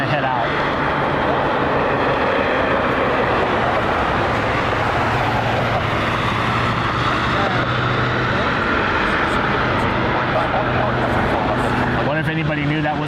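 An airliner taxis out at Cleveland Hopkins airport, giving a steady, loud jet engine roar with a low hum that holds for the whole stretch against constant background noise.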